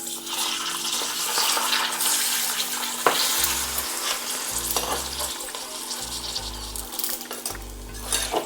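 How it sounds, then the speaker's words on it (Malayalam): Pappadam frying in hot oil in a pan crackles and sizzles continuously, with brief stirring knocks, over soft background music. "നമുക്ക് എണ്ണ ഒഴിച്ച് പപ്പടം ഉണ്ടാക്കാം"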